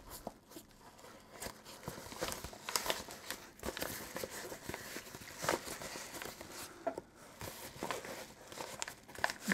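Scissors cut open a parcel, giving continuous crinkling and tearing of packaging material with small irregular snips and rustles, fairly quiet and close.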